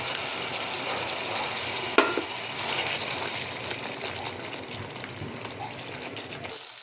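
Onion, bay leaves and a ground cashew and melon-seed paste fry in a pan with a continuous soft sizzle and occasional stirring scrapes, close and fairly quiet, no talk.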